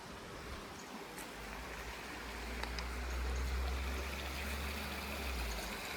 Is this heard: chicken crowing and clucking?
no